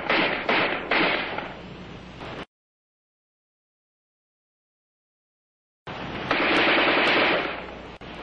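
An ArmaLite AR-10 7.62mm rifle fires in rapid bursts of loud, sharp reports, a burst at the start and another after a silent gap, the shots crackling close and harsh.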